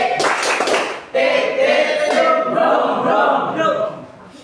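A group plays the tepuk motor clap game, clapping in patterned bursts with rhythmic pauses, fairly close and loud, mixed with voices chanting along.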